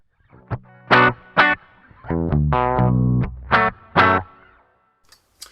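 A distorted electric guitar plays through a Line 6 HX Stomp with a slight cave reverb: short punchy chords, then a sustained ringing chord, then more stabs, each decaying into a faint wet tail.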